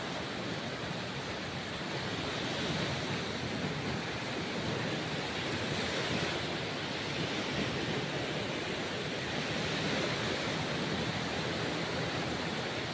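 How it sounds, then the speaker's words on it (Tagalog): Ocean waves break continuously along a seashore, a steady, full roar of surf with a broad wash of wind-blown noise, loud and unbroken throughout with no voices. "Yan, napakaganda po ng alon."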